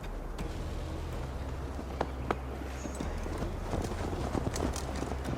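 Horse hooves in Assassin's Creed Valhalla clip-clop at a steady galloping rhythm over a low rumbling game ambience, fairly close and continuous, with a few sharper hoof strikes standing out and no talk.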